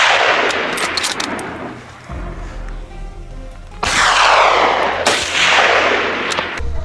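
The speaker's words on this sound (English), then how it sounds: "One shot, and the first boar dropped." Rapid gunshots ring out during a wild boar hunt, loud and close, with sharp blasts near the start and two heavy reports around the middle, each trailing off in a rolling outdoor echo.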